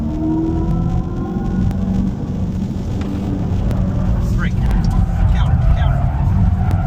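A 2024 Dodge Charger Daytona electric muscle car slides sideways on a test track, a loud close rush of tire and road noise with faint squeals, while a driver talks over it.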